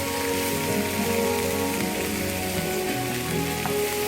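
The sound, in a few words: vegetables frying lightly in oil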